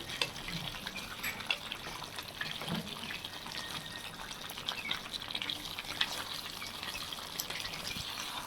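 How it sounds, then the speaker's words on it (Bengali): Chicken being fried and stirred in a wok, giving a steady hiss and watery sizzle with occasional scrapes throughout, moderately loud and close, with no talking. "এখানে চিকেনটা কষানো হচ্ছে"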